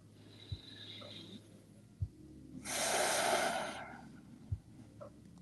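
A slow, smooth breath during yoga swells into one long, soft exhale lasting a couple of seconds, set among a few brief nasal sniffs in a quiet room.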